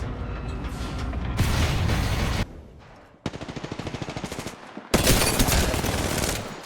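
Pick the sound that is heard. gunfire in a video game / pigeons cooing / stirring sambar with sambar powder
gunfire in a video game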